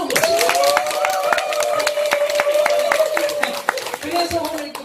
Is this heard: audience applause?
yes